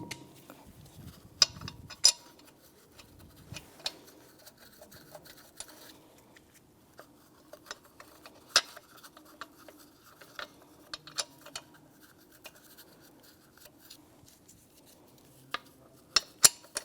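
Lug nuts are started by hand on a 2009-2014 Nissan Maxima front wheel: faint, scattered metallic clicks and light clinks with quiet handling noise between them.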